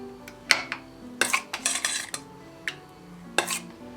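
A spoon clinks and scrapes against a bowl as sour cream sauce is scooped in. Sharp metallic taps come in irregular clusters with short pauses between them, close and clear with no talk.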